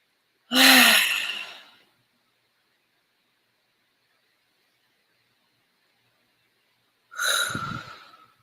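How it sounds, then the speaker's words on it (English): Two deep breaths from a group doing cleansing breathing at an art museum talk, each a loud close inhale-exhale separated by several seconds of silence. "Let's take a few breaths."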